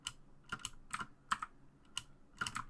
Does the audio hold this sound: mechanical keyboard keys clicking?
yes